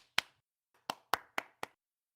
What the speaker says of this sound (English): Dude, did you hear me clap?